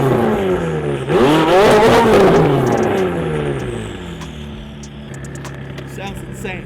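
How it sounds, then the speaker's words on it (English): A McLaren 570 with an 800-horsepower tuned twin-turbo V8 revs hard nearby, its loud engine note climbing and falling before settling into a lower idle, with a voice talking over it. "this thing sounds wild. The 800 horsepower tuned twin turbo V8 in this, insane."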